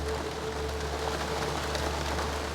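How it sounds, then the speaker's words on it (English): Rain patters steadily onto an allotment garden plot with runner beans, a dense even hiss of drops with a low hum underneath and no talking. "the rain is coming in now"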